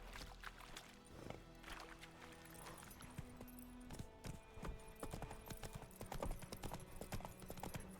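Horse hooves clip-clop in a steady walking rhythm in The Witcher 3, quiet and mid-distance, with faint ambient game sounds around them.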